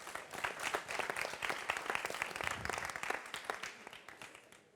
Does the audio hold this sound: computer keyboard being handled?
no